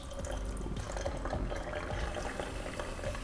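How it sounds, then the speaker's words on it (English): Rice is rinsed in water in a kitchen, with a continuous sloshing, trickling wash of water and light grains swishing, fairly quiet and close, with no talking. "I think it's good that everybody should wash their rice"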